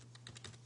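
Quick, close keystrokes on a computer keyboard enter a game console command, about five or six light clicks in a brief burst.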